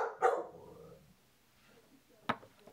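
A pet dog barks sharply nearby, one loud bark at the start trailing off, then a second short bark after a quiet pause, indoors with no talk.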